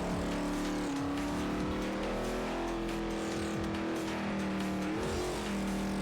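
A car engine in the Forza Motorsport 4 racing game, driven with manual transmission, revs hard and loud, rising and dropping through gear shifts with bursts of tire squeal, with no voices.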